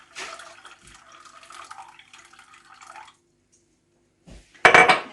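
Water is poured into a cooking pot to make burdock root tea. A light trickle with faint clinks runs for about three seconds, then after a pause come a short knock and a louder splash and clatter near the end.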